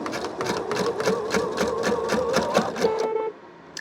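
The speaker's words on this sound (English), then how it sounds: "you just fold it right sides together and stitch down your seam" A sewing machine stitches a quarter-inch quilt seam, running in a fast, even whir of rapid needle strokes for about three seconds, then stopping abruptly, close and loud with no talk.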